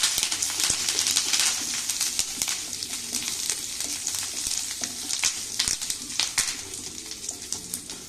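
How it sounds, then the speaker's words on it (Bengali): Cumin, mustard seeds, dried chillies and curry leaves frying in hot oil, a close, continuous crackling sizzle with sharp pops and spits scattered throughout, no voices over it. "ফোড়নগুলোকে ভালো করে ভেজে নেব।"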